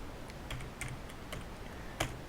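Rapid keystrokes on a computer keyboard while C code is being written, steady clicking taps with a few sharper key hits such as an enter press, close and fairly quiet, with no talking.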